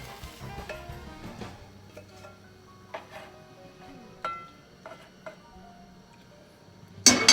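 A utensil scrapes and clinks in a pan while chipotle cheese chicken sandwich filling is stirred, with scattered light taps and a faint sizzle, ending in a brief loud clatter.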